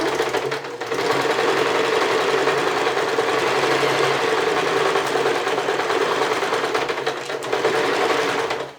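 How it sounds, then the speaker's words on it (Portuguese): Close and steady, a sewing machine runs a straight seam on a therapeutic thermal cushion, its fast, even whir continuing with only a brief pause near the start and no speech. "Mas vamos passar uma costura reta de fora a fora aqui, nessa reta."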